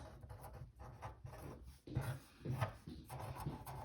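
A pen scratches across paper in short, irregular strokes while a math solution is being written out, soft and close with no voices over it.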